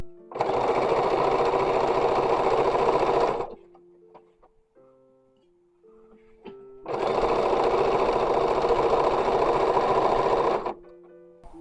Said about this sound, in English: sewing the larger petticoat. So these are 3/4 inch tucks.